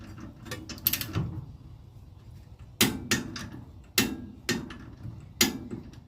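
Torque wrench tightening a castle nut on a tie rod end, set to 35 foot-pounds, during a Borgeson power steering installation: a few sharp metallic clicks and ratcheting snaps, close and distinct, spaced about a second apart after some earlier handling clatter.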